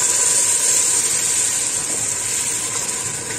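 A splash of water poured into a pot of sofrito with celery for Peruvian shambar soup sets off a loud, steady sizzling hiss that holds for several seconds before easing slightly.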